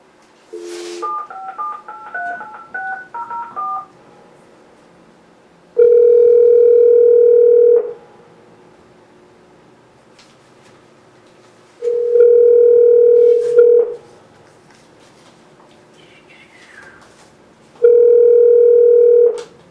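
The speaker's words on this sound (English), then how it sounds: "I want you to dial his number." A telephone keys in a number with a quick run of dialing tones, followed by three separate long, steady dial-tone or ringing bursts spaced several seconds apart, clear and isolated against near silence.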